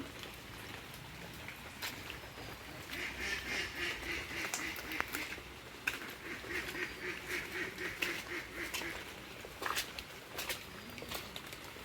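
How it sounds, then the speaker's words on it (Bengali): Ducks grazing in a field quack repeatedly at a moderate distance over a steady patter of rain, with overlapping calls rising and falling throughout. "হাঁস মাঠে চড়ছে আর আনন্দে ডাকাডাকি করছে"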